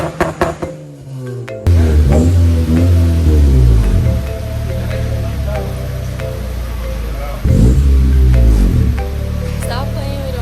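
A 9th gen car with an RBC engine swap sits on a 2-step rev limiter at a dyno day, the engine bouncing off the limiter in a loud, choppy stutter with popping bursts, starting after a short pause and surging again later, while people talk nearby.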